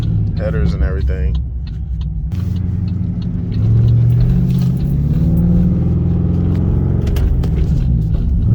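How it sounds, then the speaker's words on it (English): Pontiac G8 GT with headers, heard from inside the cabin as the driver shifts down: a loud, steady low exhaust drone swells and holds, with a voice talking briefly at the start. "This thing sounds really good."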